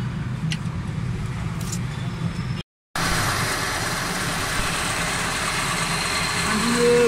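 A Suzuki Alto 1000cc VXR engine idles steadily and fairly loud nearby after a carburetor service for a fuel problem, with a brief dropout partway through before the even running resumes.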